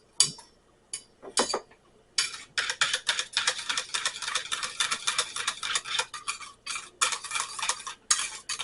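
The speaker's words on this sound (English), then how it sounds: "And maybe we will whisk it too." A whisk beats batter in a bowl with rapid, continuous metallic clicking. A few separate taps come first, and the whisking breaks off briefly before it resumes, close and crisp. The batter is for a cast-iron Thanksgiving side or dessert.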